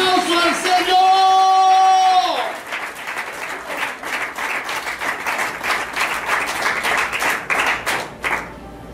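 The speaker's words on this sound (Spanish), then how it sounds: "Dale un fuerte aplauso al Señor." Church congregation bursting into strong applause, dense rhythmic clapping with some shouts and whoops, following a sustained shouted or sung voice, close and loud for several seconds before tapering off.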